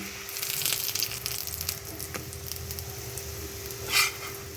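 Marble paratha fries in oil with a quiet, hissing sizzle, a few soft scrapes and one brief louder spatter near the end, with no talking.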